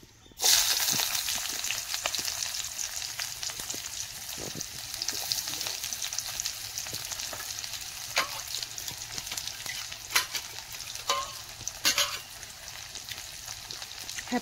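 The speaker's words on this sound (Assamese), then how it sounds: "এইখিনি ভাজি লওঁ ফুলখিনি" Papaya male flowers frying in hot oil in a pan, a continuous bright sizzle with occasional stirring clicks and scrapes, close and steady throughout.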